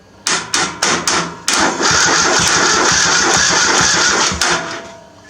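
A zero turn mower engine cranks in five quick, loud bursts, then the starter spins it continuously for about three seconds before it winds down, with no voices.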